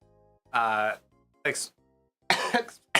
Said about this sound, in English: Expect a lot of coughing today.